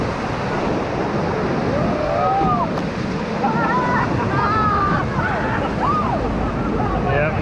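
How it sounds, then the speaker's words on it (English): River water rushes and splashes steadily around a raft on the Middle Ocoee River, with voices calling over it. "I even got a splash."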